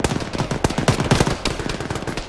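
Rapid, loud automatic gunfire in the ArmA military video game, a dense continuous stream of sharp shots with no break.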